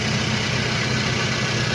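A Toyota Innova engine runs with its muffler removed, giving a steady, raw low rumble and mechanical chatter at close range throughout, with no talking.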